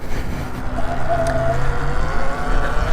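A Sur Ron X electric dirt bike rides along a trail, giving a continuous close whirring motor whine with some tonal rises, mixed with wind and rolling ground noise.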